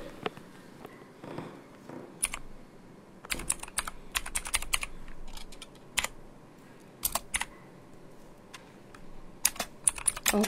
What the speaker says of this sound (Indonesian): Ini masih mengetik.